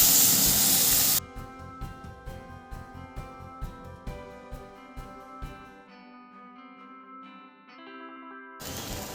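A splash of water hits a hot pan of vegetarian lau ghonto (bottle gourd) spiced with turmeric and coriander powder, giving a loud, close hiss for about a second. Plucked background music follows, and the sizzle returns briefly at the end.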